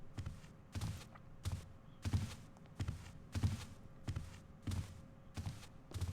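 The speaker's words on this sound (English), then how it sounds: "a couple sets of footsteps." A guard's footsteps in the stealth game Thief 2: slow, evenly spaced heavy steps, about ten in a row, close and fairly loud, with no talking.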